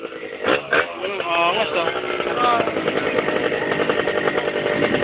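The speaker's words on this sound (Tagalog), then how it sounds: "Bilis naman ng motor na yun." Racing motorcycle engine at a street race, a buzzing high-revving whine that climbs and shifts under nearby talk, then holds a steady strained drone.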